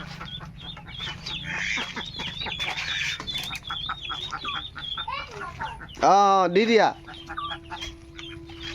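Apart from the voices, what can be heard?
small chickens clucking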